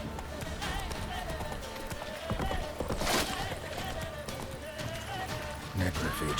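Roach, Geralt's horse in The Witcher 3, gallops steadily with a rapid drumming of hooves heard up close, under a game soundtrack, with a burst of louder noise midway and a voice talking briefly near the end.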